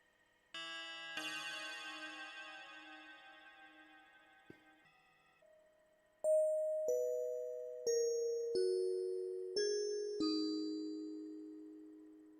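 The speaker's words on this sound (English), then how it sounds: "Let's get a really nice FM bell kind of a pluck sound." FM bell-like pluck synth built in Reason 11, first a sustained chord swell, then a run of five bright plucked bell notes stepping downward, each with a sharp attack and a ringing decay, played alone.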